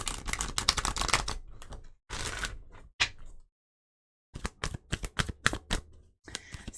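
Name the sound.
tarot cards being shuffled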